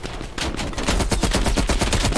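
Rapid automatic gunfire in Call of Duty Cold War, with dense, evenly spaced bursts of shots ringing out loud and close for about two seconds without pause.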